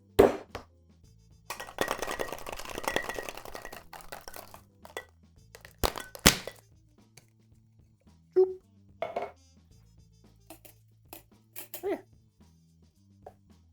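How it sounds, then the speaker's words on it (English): A cocktail shaker is worked hard, giving a dense rattle of ice for a couple of seconds, then scattered clinks and knocks of barware as the drink is finished. "I'm gonna shake that up."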